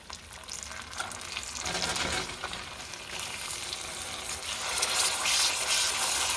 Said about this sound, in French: pour napper notre roast beef de caramel et continuer de le faire dorer un petit peu plus